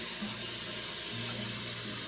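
Tap water runs steadily into a pot of beef stock made with beef bouillon base, a continuous close gushing pour with a faint tonal hum beneath it.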